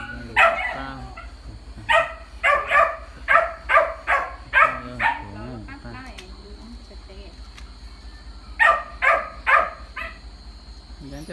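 Dogs barking repeatedly in rapid bursts, loud and close, in clustered runs of quick barks separated by short pauses, with some whimpering between them.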